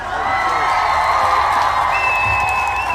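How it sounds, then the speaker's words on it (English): An audience cheers and applauds for guest Dr. Zach Bush on a health talk show, a dense continuous wash of clapping and whoops with voices and a whistle-like tone on top, loud and sustained. "Let's give him a round of applause."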